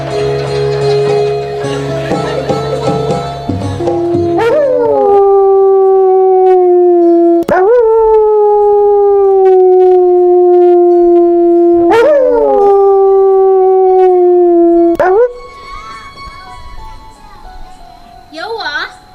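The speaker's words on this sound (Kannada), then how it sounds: "ಚಂಪಿ ಮುಗ್ಲಾಗ ಯಾರು ನೋಡ್ ಬೊಗಳ್ತೈತಿ?" A dog barks and then gives long, loud howls that rise and hold, repeating about every four seconds, during a live Kannada village stage drama performance, with some background voices at the start.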